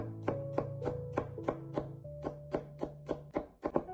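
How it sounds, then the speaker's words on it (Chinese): A knife chops garlic rapidly on a cutting board, slicing then mincing it finer, a quick run of sharp, evenly spaced knocks that speeds up toward the end, with music playing underneath. "然后再剁成稍微细一点的蒜末"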